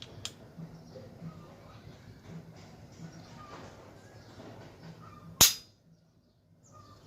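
A single sharp crack of a regulated air rifle shot rings out after some quiet, low background noise, followed by near silence.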